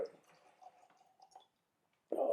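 Cihuatan Nahual rum poured from a bottle, giving a soft, close trickle for about a second and a half before falling quiet, followed by a sudden louder burst at the very end.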